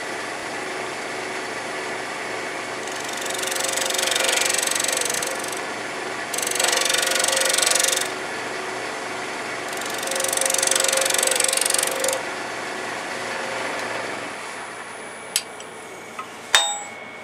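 A wood lathe cutting an off-center medallion pattern at higher speed gives a steady hum with several rising whirring cutting passes, then ends in a few sharp clicks.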